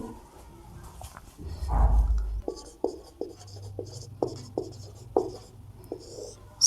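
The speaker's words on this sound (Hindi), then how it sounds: "तो हम लिखेंगे" Handwriting during a maths lesson gives a series of quick scratchy pen or marker strokes close by, irregular short bursts at a steady pace, with a low thump early on and no talk over it.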